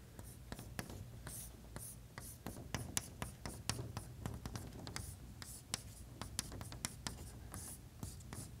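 Chalk tapping and scraping across a blackboard during a mathematics lecture on random walks, a steady run of quick clicks and short strokes with no talking.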